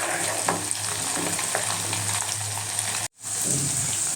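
Milk cream bubbling and sizzling steadily in a pan as it cooks down into ghee, a continuous close frying hiss with small pops, cut by a brief silence near the end before resuming.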